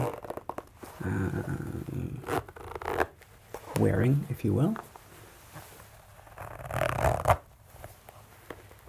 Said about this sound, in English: Again, simple zipper.